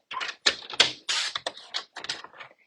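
Cardstock for an autumn fold card is cut on a paper trimmer, producing a series of close, sharp clacking and slicing bursts with brief gaps between them, and no voices.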